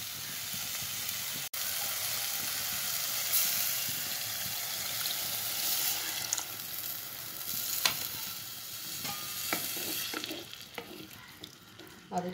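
Tamarind water goes into a frying pan of softened tomatoes for a fish chilli curry, bringing continuous sizzling with intermittent stirring scrapes and clinks growing busier toward the end.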